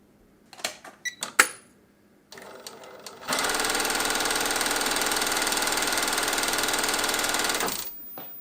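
A Juki LU-2810-7 industrial sewing machine starts with a few clicks and handling taps, then runs at high speed for several seconds winding a bobbin, a loud steady mechanical whir that cuts off sharply.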